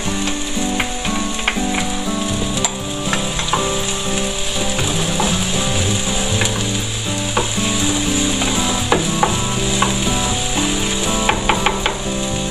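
Onion and garlic sauté in a pan for a soto Bandung recipe, producing a steady, loud sizzle with scraping stirs and utensil clinks throughout.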